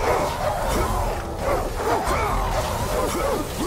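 Exploding dogs in the video game God of War 3 give repeated short barks and yips in quick succession over dense combat noise, loud and continuous, with a voice mixed in.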